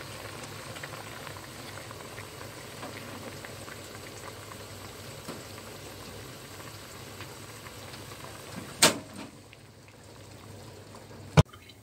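Taro stalks (labong) boiling in a pot of salted water, a quiet steady bubbling hiss that runs throughout, with a sharp clink near the end.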